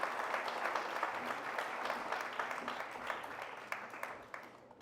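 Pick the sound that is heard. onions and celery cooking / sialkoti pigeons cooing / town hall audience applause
town hall audience applause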